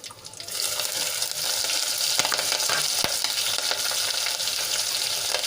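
Whole spices, dried red chillies, a piece of cinnamon, cloves and curry leaves crackle and sizzle steadily in hot oil for a Gujarati kadhi tempering, a close, continuous frying hiss with no talk.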